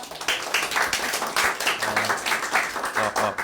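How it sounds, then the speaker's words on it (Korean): Audience at a political party thank-you gathering applauds with clearly distinct, rhythmic individual claps, fairly close and sustained throughout. "큰 박수 부탁드립니다."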